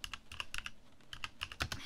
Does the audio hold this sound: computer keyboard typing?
yes